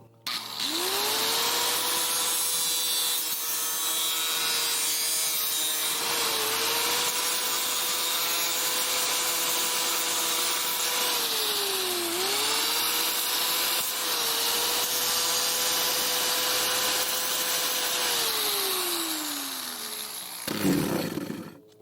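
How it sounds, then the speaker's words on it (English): An angle grinder cuts through aluminum soffit or vinyl siding with a loud, sustained high whine and harsh abrasive hiss, pitch dipping as the disc loads, then winding down and stopping near the end. "the angle grinder works really great"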